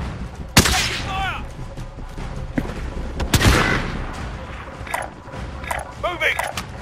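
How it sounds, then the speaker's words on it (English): Gunfire in the video game Call of Duty Warzone: a few sharp, loud shots stand out against a busy battlefield din, with voices talking in between. "Taking fire!"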